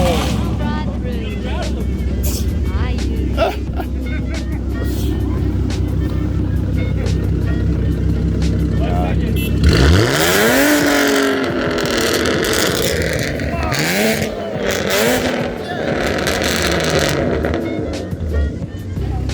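Loud Roush straight-pipe exhaust on a V6 Ford Mustang at a Portland cars-and-coffee meet: a steady deep idle drone, then hard revving and sweeping throttle blips with engine roar, close and dominant, while people talk nearby.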